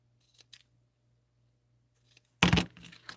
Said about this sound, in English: And then we shall trim the ribbon ends off also.